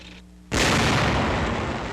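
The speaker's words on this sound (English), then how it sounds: "A tank destroyer goes into action." A tank destroyer's gun fires during street fighting in the port of Brest, France, a single heavy, loud boom after half a second of quiet, followed by a long rumbling decay with no speech.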